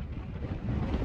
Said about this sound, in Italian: Sempre vento